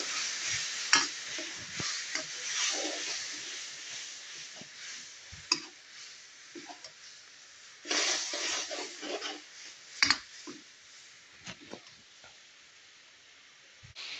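Masala stirred and sautéed in a pan with green chillies, a continuous soft sizzle under repeated scraping and clacking strokes of a spoon, some louder bursts; close, no talk.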